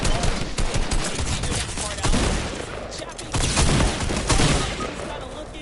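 Rapid automatic gunfire from the video game Fortnite rattles almost continuously in loud, dense bursts, with brief gaps between volleys and faint voices beneath.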